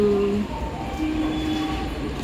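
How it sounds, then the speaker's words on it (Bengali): A train pulls into a station platform at Barrackpore, its steady rumble and rolling wheel noise filling the scene, with faint tonal squeals and a brief horn-like tone early on. "আর এই দেখো একটা ট্রেন আসছে"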